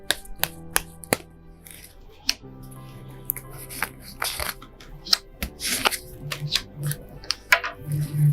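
Tarot cards shuffled and drawn for a weekly Gemini horoscope reading: a dense run of crisp, close card snaps, slides and flicks in an uneven rhythm, with no one speaking.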